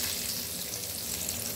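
Fried dried red chillies are poured as a tempering into a pot of Bengali-style khichuri, giving a loud, dense, steady sizzle and crackle close by, with no talking.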